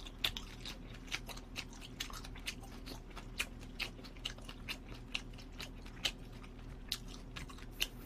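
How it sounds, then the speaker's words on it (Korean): Close-up chewing of squid, with repeated soft crunchy bites and squishy mastication in a steady rhythm and no talking. "그거 먹다 지금 씹는데 되게 오래 걸리네"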